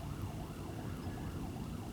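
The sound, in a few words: emergency vehicle sirens in the distance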